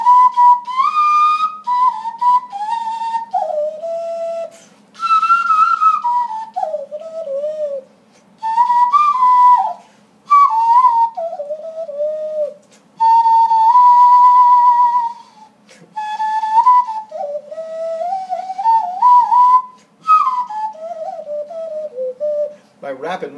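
Hand whistling through cupped fingers playing a bluesy melody: a hollow, ocarina-like tone sliding and bending in short phrases with brief pauses, loud and close, with rapid fluttering triplet ornaments.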